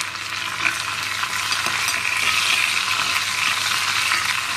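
Curry leaves crackle and sizzle as they temper in hot oil in an iron pan, making a steady, close frying hiss with small pops.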